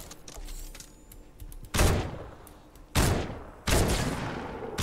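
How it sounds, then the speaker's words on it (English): Three loud, sharp hunting rifle gunshots in the Fortnite battle royale video game, spaced about a second apart, each with a booming decay over faint game ambience. "Just trying to get all the hunting rifle shots."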